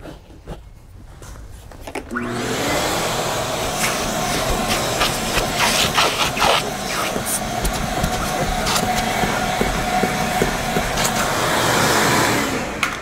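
A vacuum cleaner starts up and runs with a steady droning whine, with scraping and bumping as the nozzle moves over fabric to remove pet hair, loud and close.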